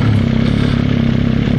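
Motorcycle engine running steadily at low revs, held on the clutch bite point with the back brake while waiting at traffic lights, a continuous near rumble with no voices.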